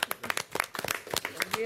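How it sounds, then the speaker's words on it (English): Short burst of audience applause for schoolchildren at a public event on career and technical education, a few scattered claps with voices mixed in. "Give our kids a big round of applause."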